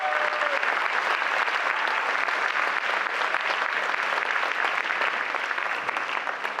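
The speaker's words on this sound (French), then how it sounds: "applaudissez-la parce que sinon." Audience applause at a mayor's New Year greetings event in Gournay-sur-Marne, a steady broad wash of many clapping hands lasting several seconds at even strength, with a brief voice at the start.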